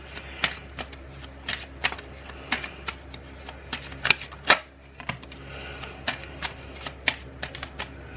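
Tarot cards are shuffled by hand in a steady run of crisp, riffling flicks and slaps, close and fairly loud, with a few louder snaps midway and no talking over them.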